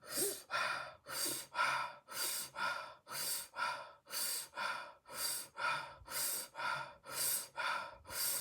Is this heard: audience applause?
no